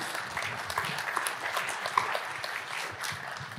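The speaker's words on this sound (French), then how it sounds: "Quelques applaudissements, je vous prie" An audience at a talk on the history of computing in France claps steadily throughout, a dense patter of many hands heard from a moderate distance.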